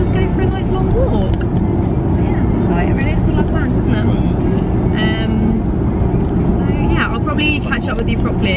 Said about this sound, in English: the noise of the car is really, really annoying in the background of vlogs